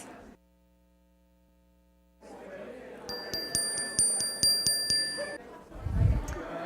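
Silence, then a steady hum. A bright bell rings repeatedly in a rapid, insistent pattern for a couple of seconds before a thump.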